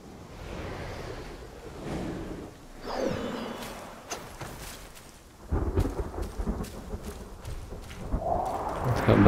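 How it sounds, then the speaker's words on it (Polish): Rolling thunder rumbles from a gathering storm in the game Black Myth Wukong, with low broad booms rising and fading over several seconds and a louder crack near the end, no voices. "Słyszałem gdzieś pioruny."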